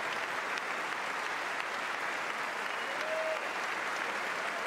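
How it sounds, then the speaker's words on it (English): Steady, dense applause from a large audience at the State of the Union address, a continuous wash of clapping heard from a distance without voices standing out. "They can get some applause for what they've done in their service"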